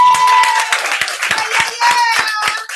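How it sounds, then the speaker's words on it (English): Dense, crackling applause from a room full of people, steady clapping throughout with a tone and faint voices mixed in. "Please give Mr. Nick Miller a round of applause."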